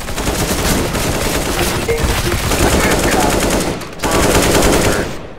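Rapid automatic gunfire in the video game CS:GO, loud and dense, with near-continuous bursts and a brief pause just before the end.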